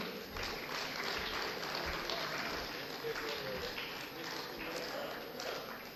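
At a Pune mushaira, an audience applauds to welcome a poet, with a dense, even roll of clapping that fills the hall and holds steady from start to finish.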